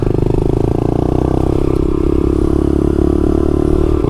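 Motorcycles riding outdoors on a cold day, a steady loud engine drone with rattling clatter and rumble throughout, no speech over it.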